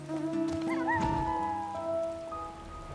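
Rain falling in Final Fantasy XIV, a steady soft patter running beneath game music with tonal melodic lines and a brief swell of effects, with no talking.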